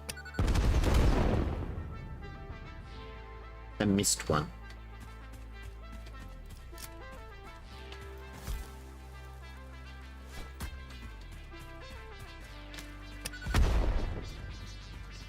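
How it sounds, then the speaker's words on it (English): Explosions in heavily modded Satisfactory come as loud booming bursts near the start, middle and end, with softer clatter and game tones between. A voice speaks briefly. "Cool kids don't look at explosions."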